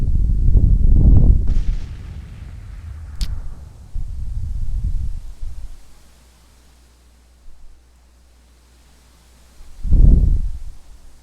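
Artillery batteries firing from a flank in a Civil War strategy game, heard as a distant boom near the start, low rumbling cannon reports through the middle, and one more heavy boom near the end.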